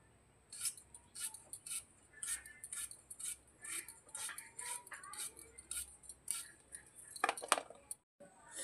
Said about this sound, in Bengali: তাই ভাবলাম সবজিটা ততক্ষণে কেটে নিই